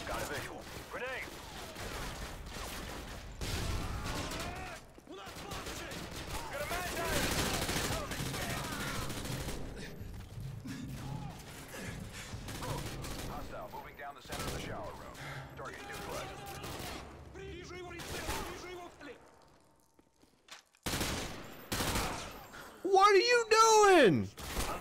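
Gunfire in Modern Warfare 2, played without music: dense bursts of automatic fire and single shots crackling through most of the stretch, with a brief near-silent gap before more shots and mixed with voices talking.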